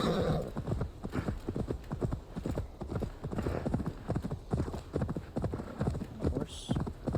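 Horse hooves in Assassin's Creed Valhalla beat in a fast, steady galloping rhythm, close and continuous, with a brief whinny near the start and a voice talking over the hoofbeats.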